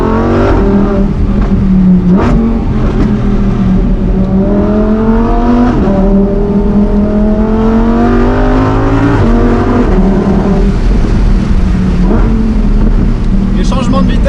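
A Lamborghini Huracán Performante in Corsa mode accelerates hard, its loud engine climbing in pitch and dropping sharply at several quick gear shifts, heard from inside the car.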